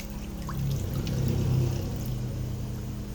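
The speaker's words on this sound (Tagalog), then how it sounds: "At ngayon ay maglalagay na tayo ng tubig na 700 ml." Water, about 700 ml, poured into a pot for grass carp fish tinola soup on medium heat, a steady close splashing pour that swells in the middle and then tapers.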